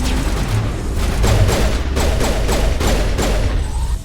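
Rapid bursts of gunfire in a Mass Effect firefight, repeated sharp reports in a steady rhythm over a dense, loud background of combat noise.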